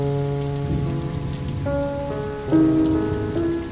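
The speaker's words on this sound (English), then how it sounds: "The next day, Napoleon came to see her in the driving rain." Heavy rain pours down steadily throughout, a dense hiss of drops striking surfaces, with faint sustained musical tones underneath.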